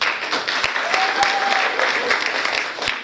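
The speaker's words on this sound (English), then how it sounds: "So let's give them all a round of applause." Steady, dense applause from an audience at a speaking event, a continuous wash of many hands clapping at even loudness throughout, with no voices standing out.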